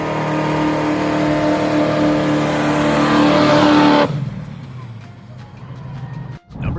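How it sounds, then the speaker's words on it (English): A loud, deep V8 muscle car engine from a 1969 car roars and revs steadily for about four seconds, then cuts abruptly, leaving a quieter rumbling idle with faint background sounds. "The sound of that engine? Pure thunder."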